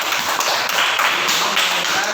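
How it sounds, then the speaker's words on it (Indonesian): A school class clapping for a student during an Islamic religious education lesson, brisk mixed applause from many hands that keeps up steadily throughout, close and fairly loud in a classroom. "Tepuk tangan untuk Umi"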